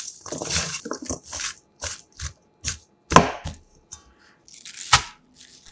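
A knife chops garlic chives on a cutting board, giving a series of sharp, close wooden knocks in uneven bursts with short pauses between them and no talking.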